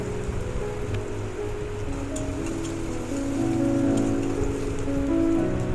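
Chopped garlic and onion fry in soybean oil for masoor dal with olives, sending up a steady, dense sizzle close at hand that swells slightly louder partway through.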